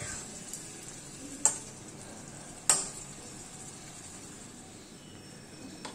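Hilsa fish being gently stirred in frying masala for doi ilish, a soft low sizzle with two sharp spoon clinks against the pan.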